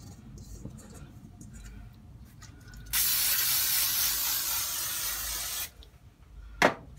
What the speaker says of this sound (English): I'm just gonna spray my bowl